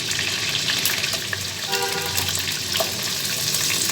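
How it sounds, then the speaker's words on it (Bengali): Prawns sizzle in hot oil in a Bengali kitchen while being fried for chingri malaikari, giving a steady, close, crackling hiss that runs evenly throughout with no talk. "মাছগুলো আমার প্রায় ভাজা হয়ে গিয়েছে, একটু হালকা করে ভেজে নিলাম।"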